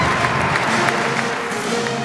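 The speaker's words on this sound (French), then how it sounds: "Applaudissons Dieu." A crowd applauds steadily during a French religious gathering, a dense, even wash of clapping that runs the whole time at a loud, close level, with a faint voice or murmur mixed in.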